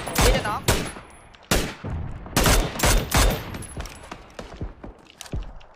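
Bursts of automatic gunfire in PUBG aimed at a vehicle, several loud rapid volleys and single cracks spread across a few seconds, close and punchy.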